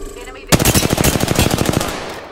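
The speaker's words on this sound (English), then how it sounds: "Who the fuck just shot?" Rapid automatic gunfire in the Apex Legends video game, a loud burst of closely spaced shots that starts abruptly and rattles on for about two seconds before trailing off.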